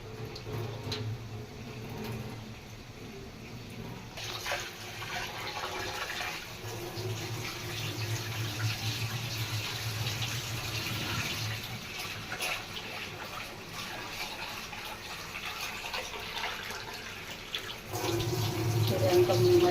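Hot water is tipped off from a pot while making a brinjal and drumstick fish curry, a steady pouring wash that runs throughout and grows louder near the end.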